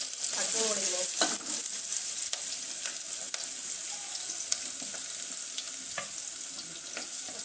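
Onion frying in hot oil makes a continuous close sizzle, with a few soft clicks and a stirring scrape. It carries on steadily with no one speaking.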